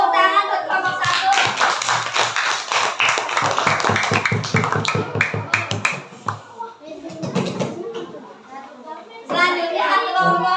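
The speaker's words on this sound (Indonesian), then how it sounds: "Tepuk tangan untuk kelompok 1." Fifth-grade classroom applauds group 1: a rhythmic, fairly close burst of many small hands clapping in unison that tapers off, with children's voices chattering over and around it.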